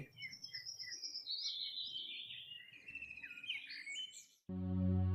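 Bright, rapid chirping and twittering from a small cartoon bird in an animated storybook tale, a near, steady run of trills lasting about four seconds before a sustained musical tone takes over.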